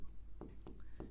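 Pen scratching on paper while working a Class 10 maths solution, three short strokes spaced evenly over a quiet room background.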